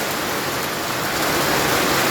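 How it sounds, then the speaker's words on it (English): Rain falls steadily outside a garage during work on a 1965 Pontiac, a dense, even hiss that runs unbroken throughout, fairly loud and close, with no voices. "the cool thing about the rain is it's finally cooled the joint down"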